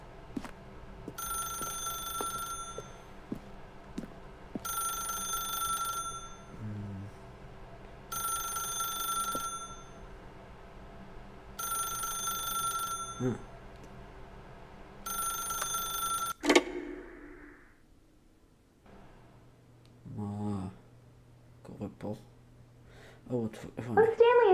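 A telephone rings repeatedly in The Stanley Parable video game, five evenly spaced electronic ring bursts over a low hum, then a click and clatter as the receiver is picked up, followed by talking.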